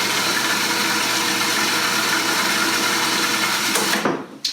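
A food processor whirs at close range while blending pesto from garlic, nuts and oil, a dense, even motor roar that runs for about four seconds before cutting off abruptly, with no talking.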